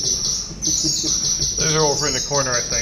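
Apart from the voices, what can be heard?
bird call effect on a pipe organ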